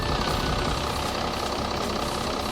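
A 2017 VW Amarok V6 TDI 165kW diesel idles with a steady, moderately quiet low rumble and faint clatter, heard alone without voices.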